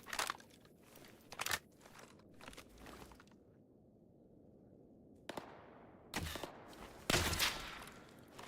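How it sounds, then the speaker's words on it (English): Several short submachine gun bursts crack out in a Stalker GAMMA game firefight, clustered bursts near the start and louder ones toward the end, with quieter rustling and a pause between. "Pretty sure that's an SMG."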